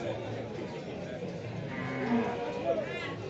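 Cattle at a morning livestock market in Bojonegoro moo a few times, close and fairly loud, over a constant murmur of crowd chatter.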